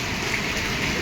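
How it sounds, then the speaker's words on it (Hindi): Heavy rain pours down during a strong storm in Patepur, Vaishali district, Bihar, a steady dense hiss of falling water with no voices. "यहीं पर ये बारिश हो रही है। और काफ़ी तेज़ आंधी तूफान के साथ हुई है।"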